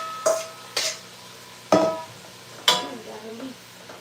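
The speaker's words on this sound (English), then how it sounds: "So now I'm going to add my broccoli. I'm going to go ahead and give it a quick saute too." Broccoli sautéing in a pot for broccoli cheddar soup, with a steady background sizzle broken by four sharp stirring scrapes and clatters spaced about a second apart, close and moderately loud.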